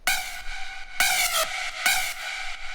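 A bright synth lead preset from a big room techno sample pack plays three sharp stabbed notes with ringing tails, loud and alone with no talking.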